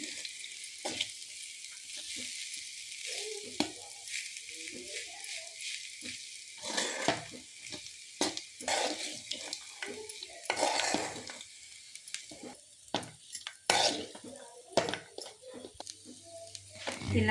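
Leftover rice mixed with mango pickle is stirred and heated in a pan, with scraping spoon strokes and soft sizzling in irregular bursts; a voice is heard briefly.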